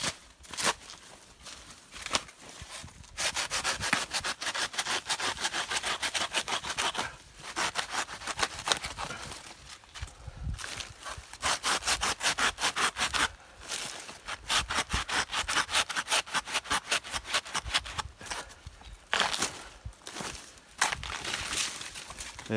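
A hand saw cuts through a tree branch with fast, steady back-and-forth rasping strokes, close and loud, pausing briefly between runs of strokes in an outdoor agroforestry garden.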